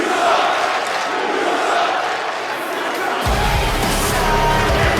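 Wrestling arena crowd in Las Vegas reacting unhappily, a loud, dense roar of shouting and jeering that swells further partway through, with an announcer's voice mixed in.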